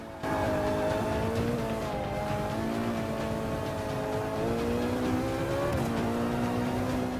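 Car drifting in the racing game Forza 5: a steady, loud engine roar with shifting revs and faint tire squeal held for several seconds, no voices.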